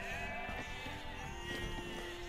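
Sheep bleat repeatedly in the real-time strategy game Age of Empires 2, the calls layered over steady game sound and music at moderate volume.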